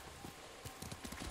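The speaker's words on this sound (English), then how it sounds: "Where's the horse? Horse! Horse!" Horse hooves clip-clop in the samurai video game Ghost of Tsushima, a faint quick run of light thuds over soft background ambience.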